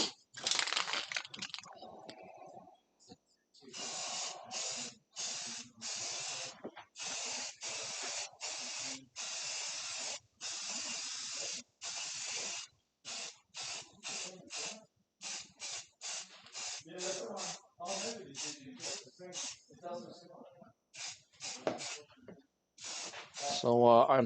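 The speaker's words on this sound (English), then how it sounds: "Remember kids, always spray paint in a well-ventilated area." Spray paint can spraying primer-and-paint onto armor in a workshop, a long series of sharp hissing bursts, some short and some sustained, close and clear with brief pauses between.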